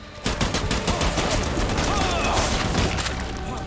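Rapid gunfire fills a scene in the video game Death Stranding, a dense, continuous burst of shots rattling loudly and without pause for several seconds.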